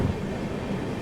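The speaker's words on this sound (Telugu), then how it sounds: "అందుకే ట్రైన్ మెల్లగా వెళ్తుంది" Passenger express train running slowly on the rails between Hyderabad and Bengaluru, heard as a continuous low rumble with soft rattling of the carriage, steady and close, with no talking.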